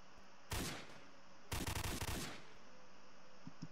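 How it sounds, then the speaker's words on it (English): Two bursts of rapid automatic gunfire from a loud gun in the Roblox game Call of Robloxia 5, the second burst longer, with each rattling volley loud and close. "If you're like right next to the guy and he's shooting with a loud gun, it's like really loud."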